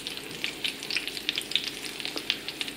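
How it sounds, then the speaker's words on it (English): Salmon fish cakes fry in sunflower oil in a pan, a soft continuous sizzle dotted with quick crackling pops, heard close and alone. "place the fish cakes in and just let them sizzle for, I don't know, 5-10 minutes, and then turn them over"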